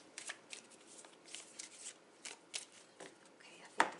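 Tarot cards are shuffled and handled, giving soft, papery riffles and flicks in short irregular bursts, quiet and close, with one sharper snap near the end.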